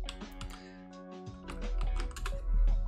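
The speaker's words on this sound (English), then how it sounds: "I'm typing it in chat" Rapid typing on a computer keyboard, a quick run of light, close clicking keystrokes with a low hum underneath and no talk.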